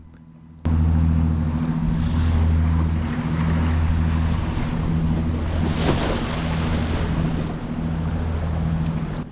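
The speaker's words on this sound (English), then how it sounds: "Going to take a wave over the back and going to add to it." A wave surges over the stern of a small fishing boat with a sudden loud rushing splash, then keeps washing and roaring beneath steady wind buffeting and a low motor drone.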